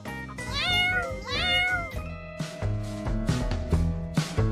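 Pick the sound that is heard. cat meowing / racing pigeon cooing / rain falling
cat meowing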